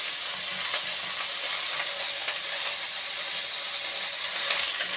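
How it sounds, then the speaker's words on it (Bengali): Lau shak greens with bori being stirred in a pan, a continuous soft sizzle with faint scraping and clicking of the stirring utensil, steady and close with no voices. "তারা মিশিয়ে ভালো করে নাড়াচাড়া করে নেব।"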